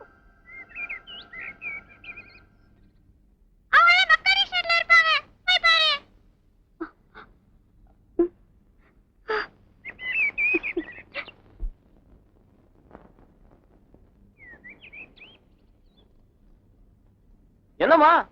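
Birds call in a Tamil film scene, giving short, high chirps and whistled notes scattered across a quiet background, broken up by a couple of louder voiced passages.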